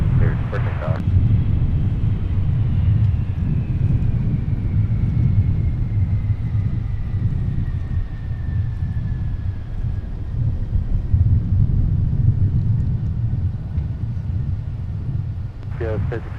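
An airliner taking off from runway 30 right at Minneapolis–Saint Paul airport, a steady, distant low rumble that holds for the whole stretch, with faint radio chatter at the edges.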